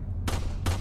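Two gunshots fired at a car's gas tank, close, sharp cracks about a third of a second apart over a low rumbling background.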